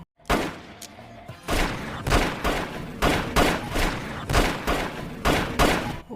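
A burst of gunfire from a gangster film, sharp shots cracking out one after another in an irregular string, loud and close with brief gaps between blasts.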